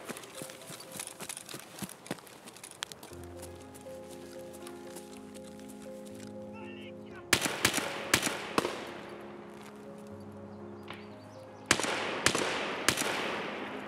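Gunfire in Escape from Tarkov bursts out as sharp, loud cracks and short volleys, with rapid footsteps at the start and a low game ambience beneath, close and punchy.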